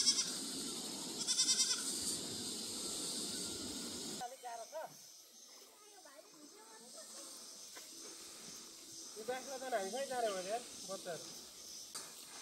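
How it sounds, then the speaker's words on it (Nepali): A young goat kid bleats several times in wavering cries on an outdoor hillside trail while following hikers, close after a stretch of wind noise and rustling, with people talking at times. "बाख्राको पाठाले परदेखि पछ्याएको हामीलाई"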